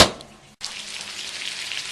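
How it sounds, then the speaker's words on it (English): Salmon fillets sizzle in a hot pan, a loud close crackle that cuts out for an instant and then resumes as a steady, even hiss. "Salmon sizzling."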